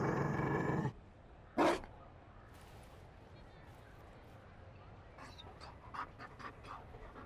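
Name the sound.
Mabari dog panting in Dragon Age: Inquisition video game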